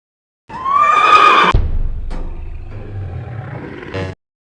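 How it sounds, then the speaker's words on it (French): A horse whinnies loudly and close, a long shrill neigh trailing into snorting and a low rumble, with a short burst at the end. "L'écuyère fait courir le cheval autour de la piste."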